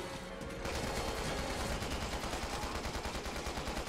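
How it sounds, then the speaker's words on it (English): Rapid automatic gunfire from zombie enemies in Resident Evil 6 rattles on steadily in a fast, even burst, loud and continuous, with no talking over it. "They're shooting at me!"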